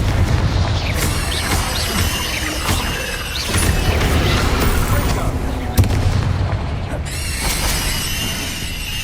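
Confringo and Bombarda spell blasts in the video game Hogwarts Legacy, with loud booming bursts and crackling impacts firing in quick succession over a dense battle din with game music and effects.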